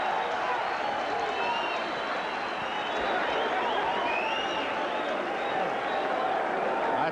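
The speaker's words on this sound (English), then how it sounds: "And the crowd loves it." Boxing arena crowd at the Iran Barkley versus Darrin Van Horn fight roaring and cheering in the first round, a steady, dense wash of crowd noise at moderate level with a voice speaking over it.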